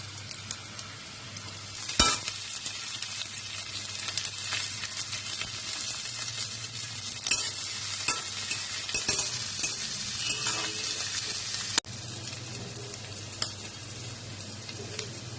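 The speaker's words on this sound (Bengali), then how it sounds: "সবজিগুলো ভাজা ভাজা হচ্ছে" Steady sizzling of onion and capsicum frying in a pan, continuous and close, with occasional clinks and a sharp knock of a utensil against the pan.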